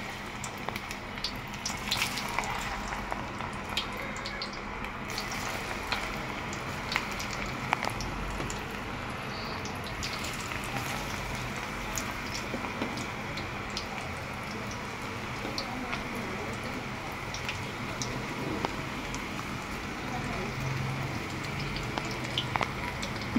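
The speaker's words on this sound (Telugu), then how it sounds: "ఆయిల్ హీట్ అయింది. ఇప్పుడు మనం ఫ్రై చేసుకుందాము." Cauliflower pakodi fry in hot coconut oil with a steady bubbling sizzle and scattered crackles and pops, while a voice talks intermittently over the cooking.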